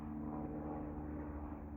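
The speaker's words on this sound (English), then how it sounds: "Let's see what's that up there. A little plane." A small propeller plane drones steadily overhead in an outdoor setting, a continuous low engine hum with no talk over it.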